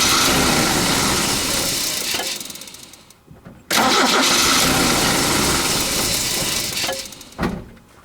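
A 20R starter motor cranks a Toyota 22RE truck engine in two long bursts of loud, whirring mechanical churning, with a brief pause between them and a short clunk near the end.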